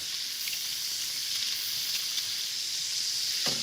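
Onion sizzles in a pan of hot olive oil and rendered fat, a steady bright hiss that holds evenly throughout, close and alone with no talk.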